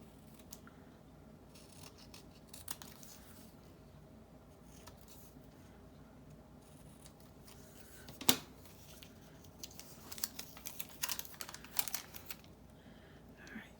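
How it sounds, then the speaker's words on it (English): Scissors snip the corners of embroidered cardstock, quiet close crisp cuts scattered through a soft room tone, with one sharper snip midway and a cluster of small snips and paper handling near the end. "Oh, I've got to cut the corners."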